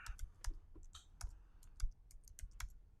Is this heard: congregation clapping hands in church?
no